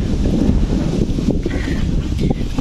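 Wind at Pulau Indah beach in Malaysia gusts hard across the microphone, making a loud, steady, buffeting rumble with no talking.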